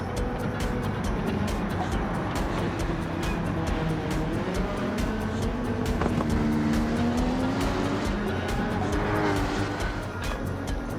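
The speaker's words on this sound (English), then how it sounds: "You can hear those brakes." Steady engine drone of a race car in the video game Gran Turismo 7, braking and turning, its pitch sliding up and down through shifts and turns, continuous and fairly loud throughout.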